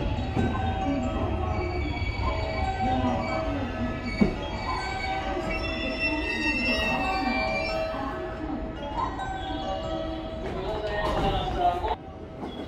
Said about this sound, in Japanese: 本日の東海道線、JR 神戸線上りの最終列車です。